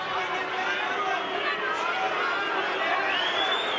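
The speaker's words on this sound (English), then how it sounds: "More boos from the crowd." A large boxing arena crowd boos and jeers continuously, a dense wash of voices with a commentator talking over it.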